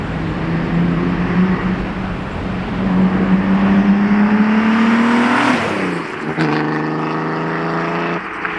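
A twin-turbocharged VR6-swapped, all-wheel-drive Volkswagen New Beetle GT6 with a six-speed manual revs hard, pitch climbing steadily before a sharp drop and a renewed high, loud and close with no talk.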